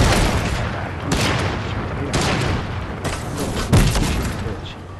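Rapid gunfire from a Fortnite match, dense overlapping bursts of shots and booms running throughout, with one heavier blast near the end and voices faintly beneath.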